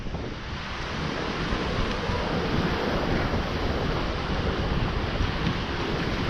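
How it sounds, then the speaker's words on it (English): Ocean surf rolls steadily onto a beach, a loud, continuous wash of breaking waves mixed with wind buffeting the microphone, with no break in the roar. "Oh my, look at the waves."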